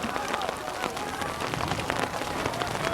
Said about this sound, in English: The rain is starting to come down pretty heavy now.